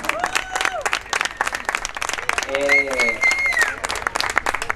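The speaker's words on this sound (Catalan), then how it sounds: "I un fort aplaudiment per la meva companya, la Jalifa." An audience applauds at a storytelling event, a dense patter of clapping throughout, with voices and cheers rising over it.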